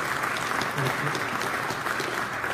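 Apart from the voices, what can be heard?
audience applause for the minister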